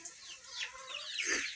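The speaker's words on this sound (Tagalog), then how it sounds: "So may bago na po tayong rooster dito sa ating mga alagang manok na panabong." A gamefowl rooster clucks and calls nearby, a bright, raspy vocalization building to a louder squawk near the end, with no talking.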